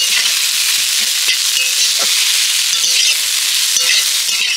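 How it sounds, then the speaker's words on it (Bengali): Potato filling with salt and chopped coriander leaves is stirred in a hot pan, giving a loud, steady hiss and sizzle broken by scraping spoon strokes. "এবার সব কিছু একসাথে ভালো করে নেড়ে চেড়ে আমি পুরটা রেডি করে নেব।"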